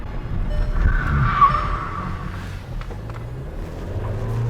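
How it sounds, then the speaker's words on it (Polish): A Skoda Octavia 1.5 TSI running on LPG brakes hard in an emergency stop, its tires squealing loudly in a sustained skid that fades into engine and road rumble. "I hamowanie awaryjne. Doskonałe hamowanie."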